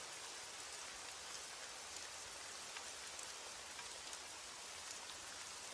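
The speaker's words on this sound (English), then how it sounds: "As the rain falls and the night deepens" Steady rain falls through the night, a constant, even hiss of drops on surfaces with no breaks or other sounds.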